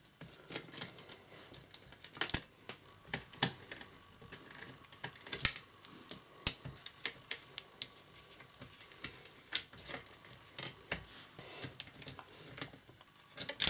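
Irregular small clicks and ticks of a screwdriver removing screws from a PlayStation 2 disc drive during a restoration, close up and fairly quiet with uneven spacing.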